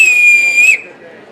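A double whistle, two whistles sounded together to mimic a hawk, gives one loud, shrill, sustained piercing note at close range that drops slightly and stops after under a second, leaving quiet room noise.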